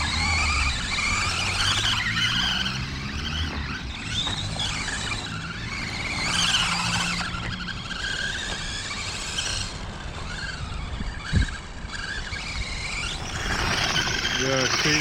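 A pickup truck fishtails on a wet road in cold English weather, its tires letting out drawn-out squeals that rise and fall under an engine drone, with people talking over it.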